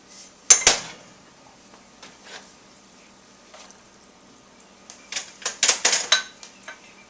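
Warmed canned kielbasa and hamburger being dumped into a pot, giving a sharp metallic clank, then scattered softer knocks, and a cluster of scraping clatters as the meat is knocked loose near the end.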